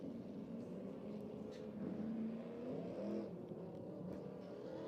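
A SMART Modified Tour race car lapping Tri-County Speedway in qualifying, its engine a steady, loud, droning roar that swells slightly as it runs on, with no other sound standing out.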